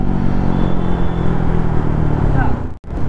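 A GTXL V4 Special Edition motorcycle being ridden, its engine droning loud and close under wind rumble, with a short drop-out near the end.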